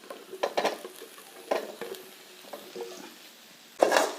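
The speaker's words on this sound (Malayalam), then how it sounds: "ഇനി ഈ ചെറിയ ഉള്ളി വെളിച്ചെണ്ണയിൽ നന്നായിട്ട് കുക്കായി വരണം" Small shallots cooking in coconut oil with a light sizzle, broken by intermittent stirring scrapes and clinks of a spoon against the pan, close and moderately quiet.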